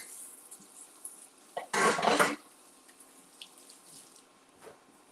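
Raw shrimp rinsed under a running kitchen tap, heard as one brief, fairly loud gush of water lasting about half a second, set between quieter kitchen background with faint clinks.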